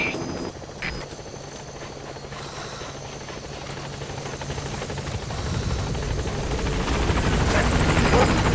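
A support helicopter in Metal Gear Solid V: The Phantom Pain approaches a landing zone, its rotor thrum steady at first and then swelling louder and closer toward the end.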